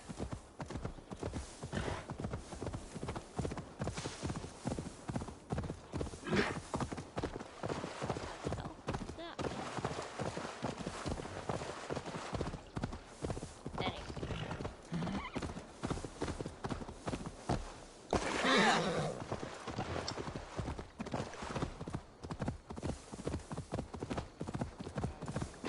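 Horse hooves clip-clop at a steady gallop rhythm throughout, mixed with in-game sounds in Assassin's Creed Valhalla, while a voice talks over the whole ride.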